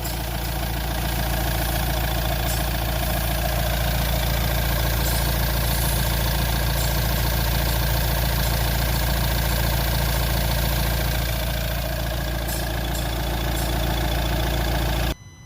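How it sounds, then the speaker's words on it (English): A Renault Trafic van engine with a clogged particle filter idles steadily up close, a constant low rumble with a faint mechanical hum and occasional light clicks, no voices. "So we'll just start the vehicle back up."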